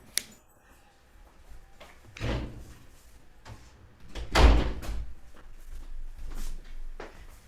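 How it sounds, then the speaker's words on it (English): A door being closed, a sharp knock at the start followed by a few duller bumps and a louder thud midway, with quiet room noise between and no talk. "Left the door closed."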